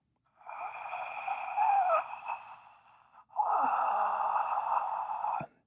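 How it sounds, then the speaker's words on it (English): Throat breathing used in a vinyasa power yoga class, made with the mouth closed and the glottis partly narrowed. Two long, close, breathy rushes follow each other with a short pause between them, with no talking. "So fogging a mirror, some people call it Darth Vader breathing."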